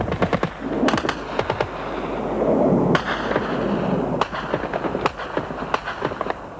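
Repeated sharp explosive blasts from airstrikes in Afghanistan during the Soviet war, some hitting close and loud, others softer and farther off, with a rumbling roar swelling between impacts and no voices.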